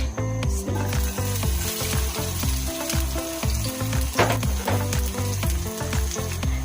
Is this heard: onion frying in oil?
yes